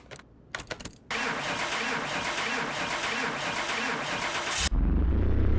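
A rusty junkyard turbo Evo engine with very low compression cranks over after a few clicks and taps, the starter whirring steadily for several seconds, then barely catches into a rough, loud, low idle close by.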